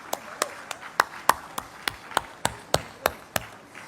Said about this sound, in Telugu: చప్పట్లతో ధన్యవాదాలు తెలియజేసుకోవాలని కోరుకుంటా ఉన్నాను.